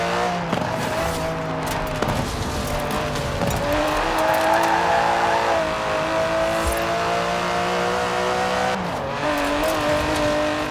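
Aston Martin DB11 engine in Forza Horizon 4, revving and accelerating through gear changes with steady rising tones, loud and close, with brief tire noise.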